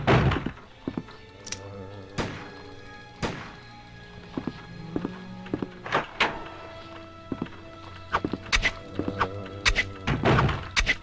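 Repeated dull thuds and knocks of a knife striking a zombie in a survival horror video game, irregular blows spaced throughout with game sounds in between.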